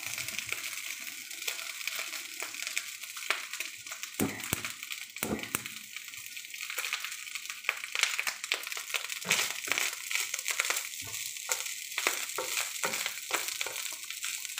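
Garlic rice with egg fries in a pan, a continuous close sizzle broken by repeated scraping and clacking strokes of a spatula stirring the rice, with no voices.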